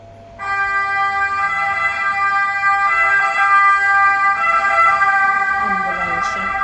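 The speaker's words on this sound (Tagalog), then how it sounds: "May ambulansya." Loud ambulance siren passing close by on a street, its steady wailing tone starting abruptly and holding strong, with faint vehicle rumble and a brief voice near the end.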